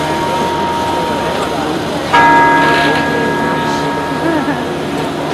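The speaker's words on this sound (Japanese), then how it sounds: "あの鐘を鳴らしますね。" Church bells ring out in Venice around St Mark's Square, a sustained metallic peal with a fresh strike about midway, set over outdoor crowd murmur and a voice talking.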